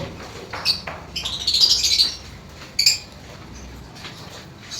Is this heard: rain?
no